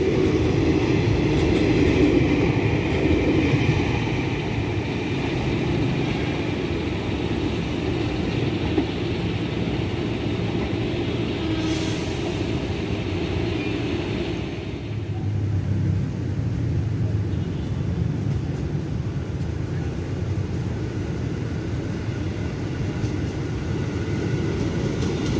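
A commuter train bound for Bogor rolls into platform 2 at Cikini station, a loud, sustained rumble of wheels and carriages that fills the whole stretch and shifts in tone partway through.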